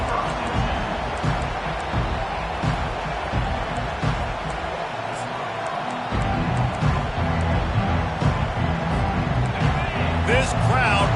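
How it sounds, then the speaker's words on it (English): A loud stadium crowd roars steadily at a Miami vs Clemson college football game, a dense, continuous wall of cheering with a commentator talking over it. "This crowd bringing an ear-splitting welcome to their visitors"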